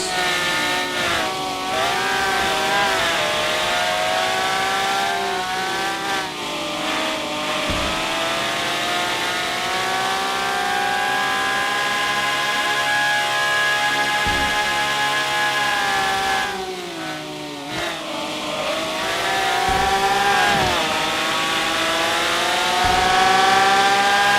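Turbocharged race car engine in a racing video game: a long, loud, steady engine roar that climbs in pitch through the gears, with several brief dips at gear changes and a surge at the end.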